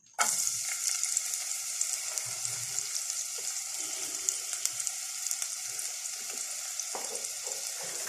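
Onions frying in a modest amount of oil, a bright continuous sizzle that starts abruptly and stays loud and close, with occasional light pops and stirring sounds.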